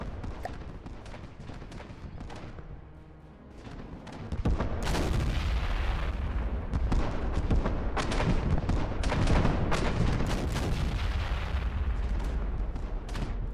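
Ship turrets fire in the naval combat video game From The Depths, producing a dense, continuous barrage of booming gunfire and explosions that grows louder and heavier partway through, with no talk.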